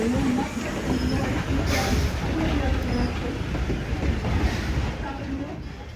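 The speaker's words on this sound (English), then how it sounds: "welcome to the Greenfield Village Railroad" A steam train on the Greenfield Village Railroad rumbles steadily along the rails, a continuous clattering roar with faint wheel squeal, constant and fairly close throughout.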